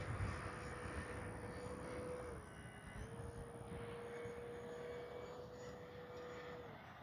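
Kavan Bristell B-23 RC model airplane flies in gusty wind, a faint, steady engine whine with a thin tone that wavers and drops briefly before holding again, heard distantly against constant wind noise.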